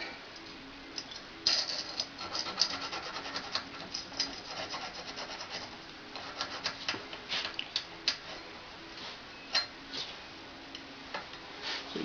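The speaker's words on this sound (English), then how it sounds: "I'm going to file little burrs off." Hand file rasping burrs from a cut edge on a Leupold Zero Point sight, a steady series of close scraping strokes with small clicks, no talking.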